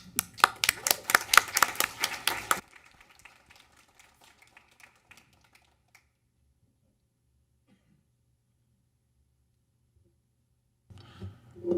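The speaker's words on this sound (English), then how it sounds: "You deserve some applause." A small group at a school board meeting applauds summer programming staff, a short burst of clapping that fades within a few seconds, followed by near silence and faint room sounds.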